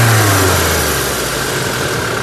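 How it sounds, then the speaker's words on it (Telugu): A 2017 Toyota Innova Crysta 2.8 GX AMT diesel engine revved once, a loud, close rising roar that peaks at the start and settles back into a steady idling drone. "ఎక్ బార్ రేస్ దేదో గాడీకు."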